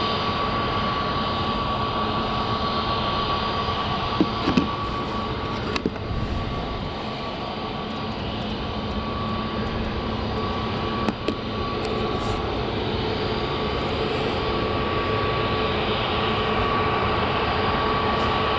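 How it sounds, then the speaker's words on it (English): A KLM Cityhopper Boeing 737-800 jet at Manchester Airport gives a steady, loud engine roar that holds evenly throughout, with a faint high whine over it and a few small knocks. "just to the side we've got a KLM City Hopper, Boeing 737-800 going to Amsterdam"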